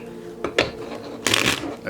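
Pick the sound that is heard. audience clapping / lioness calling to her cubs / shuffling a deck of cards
shuffling a deck of cards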